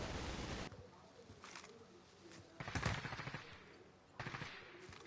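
Bursts of gunfire in the video game Warzone come in rapid automatic strings, one at the start and more in the middle and near the end, fairly faint and distant-sounding with quieter gaps between them.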